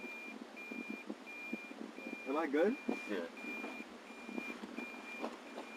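A truck's reversing alarm beeps steadily and evenly while the vehicle backs up outdoors, with people talking over it at close range.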